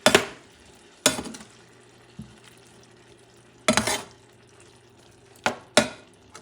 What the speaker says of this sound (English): I'm going to mix everything nicely